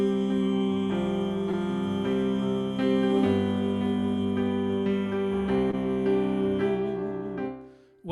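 Sopranos of a choir rehearsing a hymn-like arrangement sing one sustained note against the main tune, a steady held tone over accompanying chords for about eight seconds, fading at the end.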